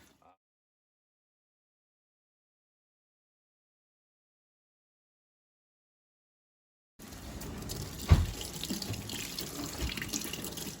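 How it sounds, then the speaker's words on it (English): Tap water runs into a kitchen sink for hand washing before cooking, starting abruptly after a long silence with a steady close splashing stream and a brief louder splash partway through. "we always have to remember to wash our hands."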